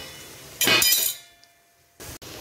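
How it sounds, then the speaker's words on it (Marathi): A pan lid comes off a pan of frying jackfruit with a bright metallic clink and rattle, followed by quieter sizzling and another short knock near the end. "तर आपण झाकण काढलेले आहे."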